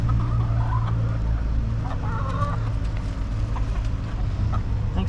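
Chickens cluck and chatter over a constant low rumble of outdoor background noise, the calls scattered and moderately close.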